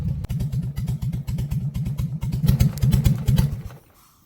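A motorcycle engine chugs in a rapid, uneven rhythm close by, swelling briefly louder before cutting off near the end.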